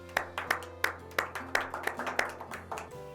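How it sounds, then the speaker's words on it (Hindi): A small audience claps for the poet Kamlesh Noor at a poetry gathering: a dozen or so distinct, fairly loud claps in an uneven rhythm over about three seconds, with no voices over them. "आइए जोरदार तालियों में स्वागत करें कमलेश नूर का"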